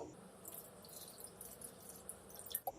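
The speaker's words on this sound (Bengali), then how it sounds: "এবার এতে পরিমাণ মতো জল দিয়ে দেব উচ্ছেটা সিদ্ধ হওয়ার মতো" Water pours into a pan of bitter gourd pieces with half a tomato, a faint, steady trickling wash with a slight splash near the end.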